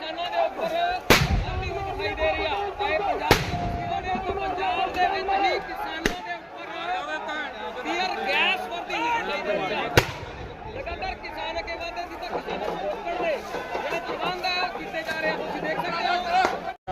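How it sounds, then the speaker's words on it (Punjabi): Tear gas shells fired by police at a farmers' protest in Punjab, sharp booming bangs at about 1, 3.3, 6 and 10 seconds over continuous crowd noise and chatter. "ਜਿਹੜੇ ਗੈਸ ਦੇ ਗੋਲੇ ਨੇ ਉਹ ਚਲਾ ਦਿੱਤੇ ਗਏ ਨੇ"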